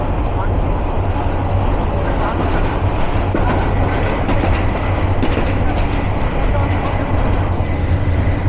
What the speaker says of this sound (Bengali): Karnaphuli commuter train Dhaka two Chittagong